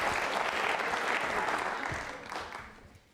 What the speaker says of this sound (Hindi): तालियां जोरों से बजाइए साहब